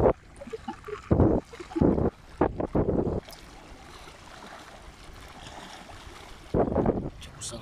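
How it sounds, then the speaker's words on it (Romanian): Wind gusting over Lake Tasaul with waves lapping near a small fishing boat, rough microphone buffeting and splashy bursts alternating with a calmer steady wash, and someone speaking in short bursts. "Să bată vântul. Așa și valuri sunt."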